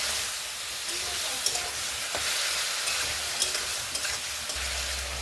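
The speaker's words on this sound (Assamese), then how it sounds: "আৰু এতিয়া মই নিমখ হালধিৰে সৈতে আনাৰসখিনি ভালকৈ ভাজি ল'ম" Pineapple pieces frying in a pan with salt and turmeric give off a steady, broad sizzle, with a few faint stirring scrapes and clicks along the way.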